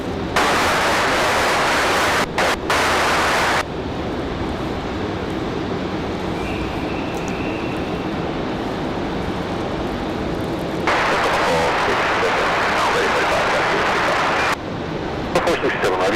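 A JetBlue airliner takes off from runway 23 right at Raleigh-Durham International, a broad, steady engine roar with wind and noise in the mix. The roar holds at a constant level, with some shifts in the background noise.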